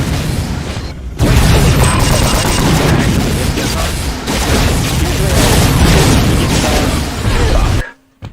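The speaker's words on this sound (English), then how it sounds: "Usually those barrels explode and he doesn't get to help you." Barrels explode in the video game Unreal as loud, dense bursts of booms and crashes. The blasts run almost continuously for several seconds, then cut off abruptly near the end.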